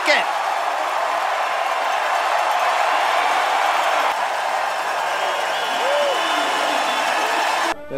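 Huge crowd at Red Tail Stadium cheering a hometown skier, Ted Ligety, as he comes into the finish at a ski race; a steady, loud roar of cheering and applause runs throughout, with commentary over it.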